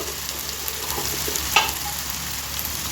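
Ginger, garlic and coriander paste with turmeric frying in a pan for pav bhaji, a steady close sizzling hiss with one sharp click midway, no voices.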